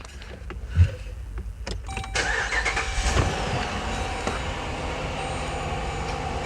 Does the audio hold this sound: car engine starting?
yes